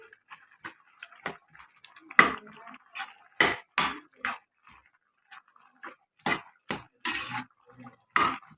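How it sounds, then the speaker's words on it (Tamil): A ladle stirring sambar with sambar powder in a cooking pot, giving sparse, sharp clinks and taps of metal against the pot at an uneven rhythm, close and fairly quiet. "சாம்பார் பொடி ஆட் பண்ணிவிட்டு"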